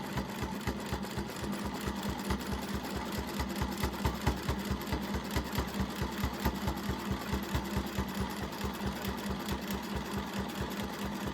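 A sewing machine stitches around a small applique on a practice piece, running as a fast, even mechanical hum with a steady needle rhythm throughout, close and uninterrupted.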